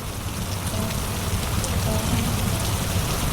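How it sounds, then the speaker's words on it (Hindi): Steady rain falls outside in an animated village story scene, a dense, continuous patter with no breaks, moderately loud throughout. "रामू बाहर बारिश देखने चला जाता है।"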